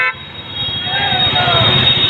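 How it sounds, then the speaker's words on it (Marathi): A Constitution Day rally of bikes, cars and rickshaws moves through Kalyan in Thane district, with a bright horn toot sounding over a close, busy wash of road traffic and engines. "रैली में आप देख रहे हैं बाइक, कार, रिक्शा आदि"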